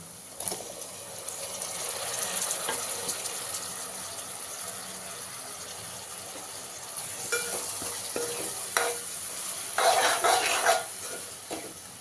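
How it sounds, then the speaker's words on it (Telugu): Tomatoes frying in a pan for egg masala curry crackle softly while being stirred, with scraping bursts and a louder sizzling surge near the end; no speech. "ఇప్పుడు టమాటోస్ యాడ్ చేయాలి"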